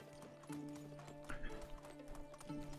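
Horse hooves clip-clopping in the video game Medieval Dynasty, a steady walking rhythm of soft thuds under a faint musical drone, with a brief whinny mixed in, quiet and fairly close.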